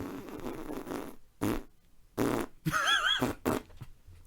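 A few short, loud bursts of a fart-like sound come in quick succession, broken by pauses and mixed with muffled laughter from the person making it.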